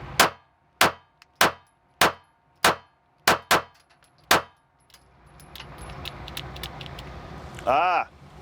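Seven sharp, evenly spaced shots from a SCCY CPX pistol crack out one after another, each decaying quickly, followed by quieter shuffling background noise.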